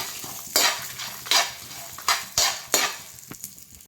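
Kundapur-style mutton fries in ghee with spices and is stirred with a spoon: about six close, rhythmic scrapes over a steady sizzle, with no talking.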